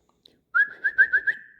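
A person whistles a steady tone broken into a quick run of five rhythmic pulses, close and clear against silence.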